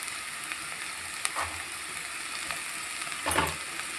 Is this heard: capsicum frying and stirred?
yes